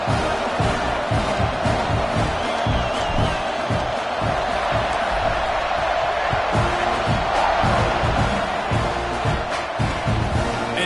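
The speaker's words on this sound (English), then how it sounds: "this crowd is buzzing after that last score" A college football stadium crowd keeps up a loud, continuous roar after a score, dense and steady throughout, with no break in the noise.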